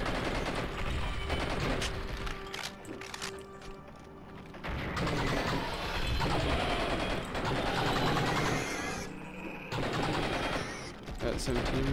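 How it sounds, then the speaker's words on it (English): Gunfire in the video game Blood and Bacon, dense rapid bursts of loud shots with mechanical clatter running almost continuously through the stretch, with brief lulls between volleys. "And let's try to shoot it."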